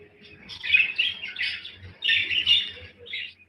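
Domestic budgerigars in a research lab chirping and warbling in two bursts of quick, bright calls, close and fairly loud over a low background hum.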